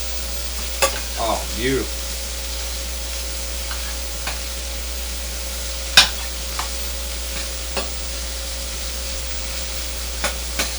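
Sausage pieces for Chicago deep dish pizza fry in a pan, a low steady sizzle under a constant hum, with scattered sharp scrapes and clicks as a utensil breaks them up; a voice briefly comments early on.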